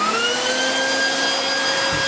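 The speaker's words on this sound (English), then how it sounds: "This vacuum cleaner was pulling 33 amps." A vacuum cleaner powered through an inverter from a 12V 100Ah LiFePO4 battery runs with a loud, steady whine and motor drone throughout, then cuts off abruptly at the end.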